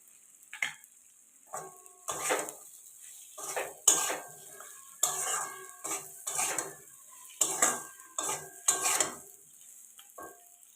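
A spatula scrapes and clatters in a pan while pointed gourd and tilapia fish curry is sautéed, producing a string of separate metallic strokes and scrapes over a faint sizzle, close and uneven in rhythm.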